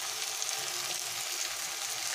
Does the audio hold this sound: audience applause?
no